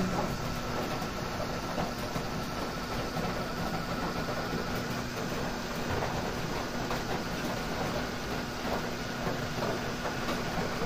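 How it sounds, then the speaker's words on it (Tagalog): Steady rain patters on the roof of a small hut on a provincial lot, a dense, continuous hiss of drops with a faint low hum underneath, evenly sustained without breaks and no voices. "nakakamiss makakarinig ng patak ng ulan sa may bubong"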